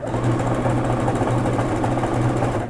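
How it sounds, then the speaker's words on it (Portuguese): A sewing machine runs a small topstitch close to the seam edge of a basic dress, a loud continuous close-up whirring drone held steadily throughout with no talk. "E já vou costurar bem rente à borda de montagem aqui, um pesponto bem pequenininho"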